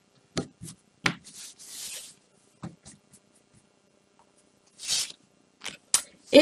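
Tarot cards are cut and handled close by, giving scattered soft slaps, rustles and brief shuffling bursts separated by silent gaps, with no talk.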